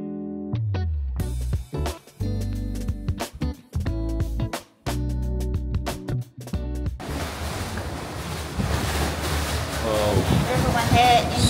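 Strong wind roars and buffets across a microphone at the Amsterdam lookout, a broadband rushing that takes over the second half after a stretch of music and voices, loud and continuous.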